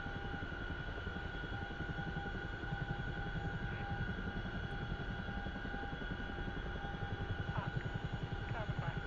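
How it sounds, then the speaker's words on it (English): A CH-47 helicopter flies low just beside a forward arming and refueling point, its rotors making a steady, continuous thumping drone that stays even and fairly faint throughout. "it looks like a helicopter just on the west side of the FARP."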